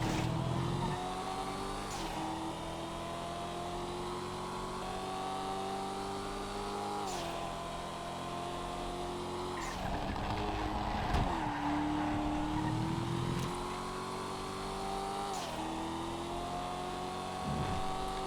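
Blackfin muscle car engine in GTA FiveM, a loud, continuous rumbling drone with rising and falling revs and shifting gears, punctuated by brief tire squeals and skids, heard close with no talking.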